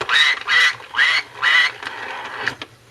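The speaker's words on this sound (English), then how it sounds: "Here is a duck." A 1980s See 'n Say pull-string toy plays a recorded duck sound: four loud nasal quacks in a row, then a fainter mechanical trailing sound from the toy.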